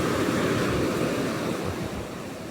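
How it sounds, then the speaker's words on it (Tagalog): A strong river current rushing past, a close, loud and steady wash of turbulent water with some wind noise, tapering slightly toward the end. "Lakas lang ng agos."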